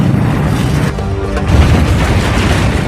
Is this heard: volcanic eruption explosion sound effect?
yes